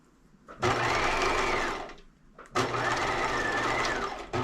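Sewing machine stitching the seam of a Barbie doll top, two close, loud runs of rapid stitching with a short pause between them for a pivot with the needle down.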